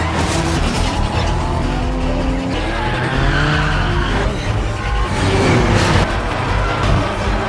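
A car braking hard and skidding on a mountain road in a Fast & Furious race scene, loud continuous tire squeal over roaring engines throughout, with no talking.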